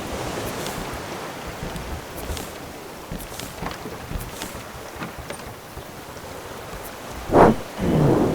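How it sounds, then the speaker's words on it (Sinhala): Rain and thunder in the Raft survival video game, a continuous hiss of rainfall with a loud close thunder crack near the end followed by a rumbling swell. "වහිනවනේ."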